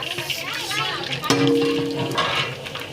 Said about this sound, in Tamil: எண்ணெய் நல்லா காஞ்சிச்சு நம்ம கடுகு போட்டுக்கலாம் இப்போ சோம்பு வெந்தயம் ஜீரகம் இது எல்லாத்தையும் இதில் போட்டுடலாம்